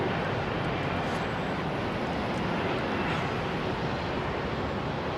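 A Boeing 747-400F jumbo jet in new livery approaching to land at London Heathrow, heard as a steady, broad distant engine roar with no speech, even in level throughout.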